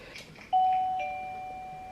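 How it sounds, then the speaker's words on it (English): A wireless video doorbell sounds its standard chime: two clear electronic tones in succession, the second ringing on and slowly decaying, loud and close in a quiet room. "Sounds just like your regular doorbell."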